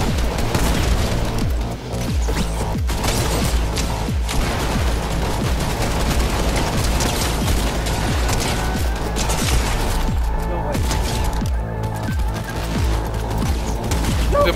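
In Fortnite, a tactical shotgun fires amid a busy firefight, heavy booming blasts landing at irregular intervals over dense, continuous battle noise, loud and close.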